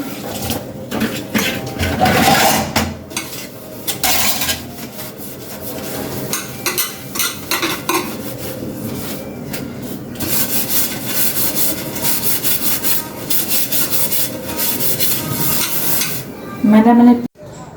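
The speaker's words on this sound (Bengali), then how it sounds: "তো হাঁড়ি পাতিলগুলো আমি মেজে নিই।" Cooking pots and pans being scrubbed clean by hand in a rural home, a steady rough rubbing and scraping that runs throughout with brief pauses and a clatter of metal near the end.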